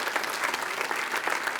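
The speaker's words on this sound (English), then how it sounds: "That's worth a line of applause for the city of Rancho Cordova." A convocation audience at a community college district event applauds the city of Rancho Cordova with a continuous, dense burst of many hands clapping, steady in level for the whole short stretch.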